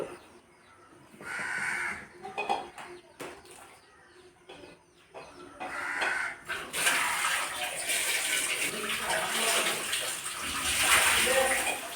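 Eggs being washed in water before boiling: after a stretch of quieter handling sounds and speech, running water gushes steadily and loudly into a vessel, with crows cawing faintly in the background.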